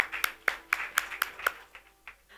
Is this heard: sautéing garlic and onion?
no